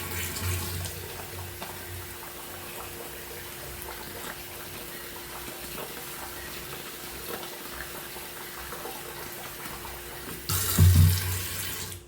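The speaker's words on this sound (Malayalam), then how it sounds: "ഇനി നമുക്ക് പുതിയതായിട്ട് വെള്ളം ഒഴിച്ചു കൊടുക്കാം" Water runs steadily from a tap into a pressure cooker, a constant splashing hiss, with a louder clattering surge near the end.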